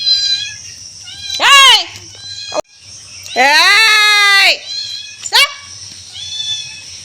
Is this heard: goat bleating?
yes